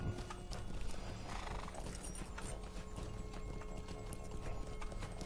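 Horse hooves clip-clop steadily in a video game as the mount sets off on a Frostbluff quest, with a whinny early on and faint mechanical clicks over a busy, continuous game soundscape; no talking.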